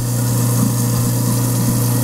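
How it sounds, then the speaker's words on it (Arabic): A kitchen sink garbage disposal with internal blades runs steadily, its motor humming and grinding at a constant pitch, loud and alone. "سامعين صوت زي خلاط، زي مفرمه"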